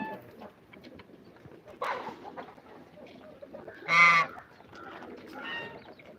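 Three pigeons let out into a home yard with chickens and ducks coo and flutter, with clucks and a few louder bird calls rising sharply at moments against a quiet background.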